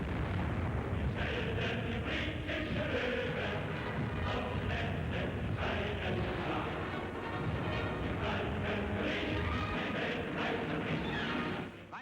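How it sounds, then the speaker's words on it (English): British anti-aircraft guns firing during WWII as the London Docklands burn, a dense, unbroken barrage of booming bursts and rumbling detonations, loud and continuous throughout. "British anti-aircraft guns fire away with all their might."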